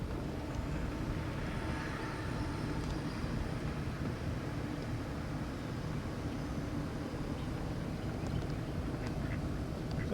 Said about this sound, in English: some ducks up ahead.